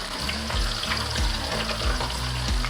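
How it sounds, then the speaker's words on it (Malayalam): Mustard seeds, slit green chilies and ginger pieces sizzle loudly and continuously in hot oil for a toddy-shop-style fish curry, with rhythmic scraping and stirring strokes repeating throughout. "രണ്ട് പച്ചമുളക് ഇട്ട് കൊടുക്കുന്നുണ്ട് കീറിയതാണ് ഇഞ്ചി രണ്ട് പീസ് നമുക്ക് ഇളക്കി കൊടുക്കാം"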